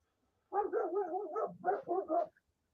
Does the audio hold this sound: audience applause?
no